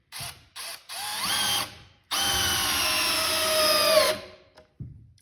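Milwaukee M12 installation driver driving a screw at speed two, with a few short bursts of whirring motor followed by a longer steady high whine that stops abruptly, close up and without talk.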